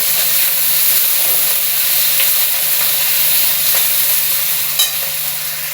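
Chopped potatoes frying with lightly browned onions in a pan for a Bengali okra dish, a loud, steady sizzle and hiss running throughout, with a few soft stirring scrapes near the end and no talking.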